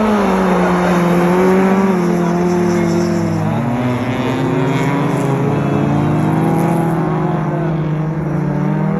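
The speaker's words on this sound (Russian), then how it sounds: "Масиков Алексей, я так понимаю, синий автомобиль." Race cars on a winter track race in Novokuznetsk, a loud continuous engine drone with rising and falling revs as several cars circle close by, tones sliding as they accelerate and pass.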